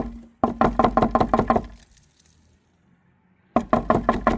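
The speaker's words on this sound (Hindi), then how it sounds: "कुंडी तो खुल रही है लेकिन दरवाज़ा नहीं खुल रहा, तो खड़का के देखते हैं" Knocking on a locked door: a rapid series of about eight loud, close knocks, a pause of near silence, then another quick burst of knocks.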